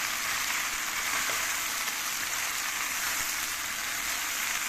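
Macaroni sautéing in oil in a pan, a steady close sizzle and frying hiss that holds evenly throughout while the pasta is stirred.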